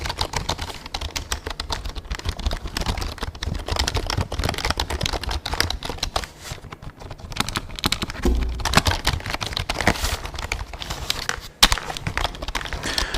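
Fast, continuous clicking of keys on a basic computer keyboard, close up and steady, with no voices.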